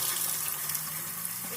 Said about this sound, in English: the filter to purify this water that's coming out from right here